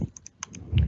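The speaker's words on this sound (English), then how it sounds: "But if I click my mouse, you can hear it." A few sharp computer mouse clicks, light and close, spaced irregularly, followed by a soft low thump at the end.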